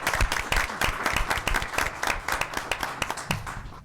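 A room full of people applauding school staff and students at a board of education meeting, dense sustained clapping that holds steady for several seconds and then thins out toward the end.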